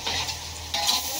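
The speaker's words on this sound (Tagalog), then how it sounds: "itong itlog natin, syempre, lulutuin mo muna sa mantika dyan sa gitna" An egg frying in cooking oil in the middle of a pan with bitter melon, giving a close, steady sizzling hiss that swells briefly, with no voices.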